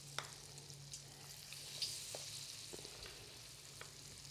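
Spoonfuls of cauliflower are deep fried in hot oil, giving a steady, faint sizzle and bubbling with a low hum underneath and no voices.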